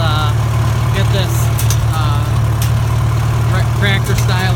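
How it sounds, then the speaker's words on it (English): A 1944 McCormick Deering O4 all-fuel orchard tractor engine idles with a steady low, even throb close by, while someone talks over it. "that's the 1944 Mcormick Deering O4 for you. Good little tractor."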